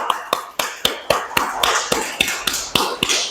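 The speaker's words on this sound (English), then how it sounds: "Give yourself a round of applause." A small group claps together after a chair yoga exercise at a community centre, giving sharp, irregular hand claps close by with no talking over them.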